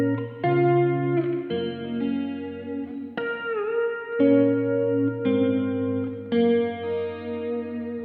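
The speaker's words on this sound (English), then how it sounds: "a good ear will also hear that I've got a chorus pedal on" A clean PRS electric guitar plays slow chords through a chorus pedal with a shimmering, gently warbling effect, each chord sustaining before the next.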